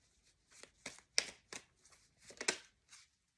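Tarot cards shuffle in quick riffling bursts, about seven short papery flutters spaced irregularly across a quiet room, close and soft.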